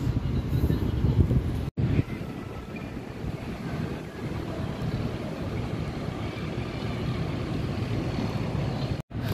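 Steady breeze at Plaza Yochenko buffets the microphone with continuous low rumbling wind noise that fills the whole stretch, broken only by two brief dropouts.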